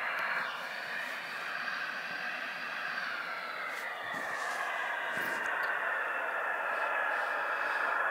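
An airliner takes off in the Infinite Flight simulator game, a faint, steady engine roar and hiss that holds without a break and builds slightly toward the end.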